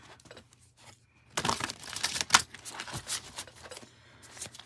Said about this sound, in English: I like the way that I shuffle. I like shuffling rough, okay?